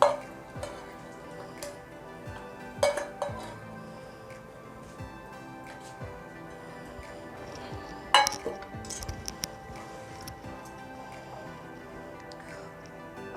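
Roasted cashews dropped into firni, with a pot and spoon clinking in a few sharp, sparse taps against a quiet kitchen background.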